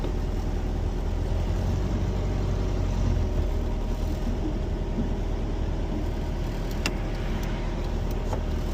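A VW Baja Beetle engine, recently cured of fuel leaks and choke trouble, runs at a steady, close idle with an even, continuous drone and no talking over it.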